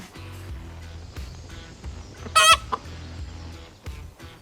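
American game fighting chickens on an off-grid homestead cluck softly and steadily close by, broken by one sharp, loud squawking burst partway through and a few quieter calls after.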